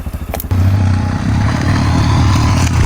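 A motorcycle sets off on a training ride for a category A licence, its engine rising from a choppy idle into a loud, steady drone that stays close throughout.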